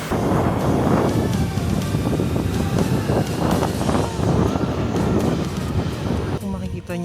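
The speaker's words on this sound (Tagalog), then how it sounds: "grabe yung hangin dito" Strong wind buffeting the microphone at Patar Beach in Pangasinan, a loud continuous roaring rush with gusty swells, people talking faintly underneath.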